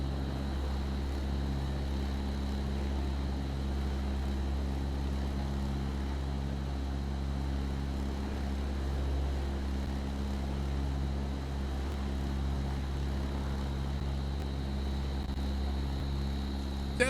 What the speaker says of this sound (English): Can you hear it over the sound of the plane?